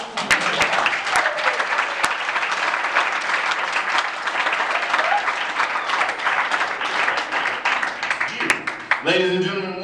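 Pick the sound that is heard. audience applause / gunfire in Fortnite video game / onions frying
audience applause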